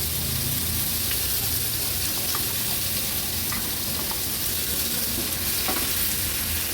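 Turmeric, homemade Agri Koli masala and ground paste frying in hot oil, a dense, steady close sizzle with faint stirring clicks, nobody speaking.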